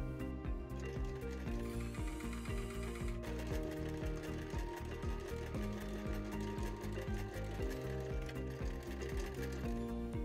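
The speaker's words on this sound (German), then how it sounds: "Nähe den Tunnel fest. Verriegle dabei den Nahtanfang und das Nahtende." A sewing machine stitches the drawstring channel of a hoodie hood, its needle mechanism running in a steady, rapid mechanical rhythm with small pauses, close and fairly quiet.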